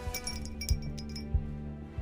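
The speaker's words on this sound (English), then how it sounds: "The crystal glasses clinked, a sharp, crystalline sound echoing." Crystal glasses clink together in a toast, giving three sharp, bright chimes spaced evenly over a low steady hum in a quiet room.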